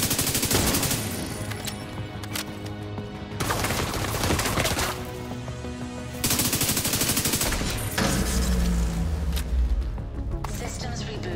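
Gunfire from a hostile sniper turret in The Division 2 on Liberty Island, loud repeated bursts of shots in several clusters over a dense, pulsing game soundtrack, with brief stretches of clattering between volleys.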